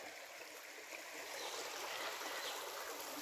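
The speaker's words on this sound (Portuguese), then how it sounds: "Aqui é o nosso pequeno córrego." A small stream beside a bell pepper field flows with a steady close hiss and light trickling, continuous and gentle, with no voices.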